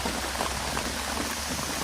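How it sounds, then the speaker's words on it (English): Steady rain falls at a campsite, a dense close patter on surfaces that continues without a break and without voices. "It's raining."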